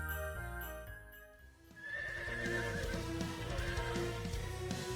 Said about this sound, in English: A horse jumps out from the throng in front of me before galloping away.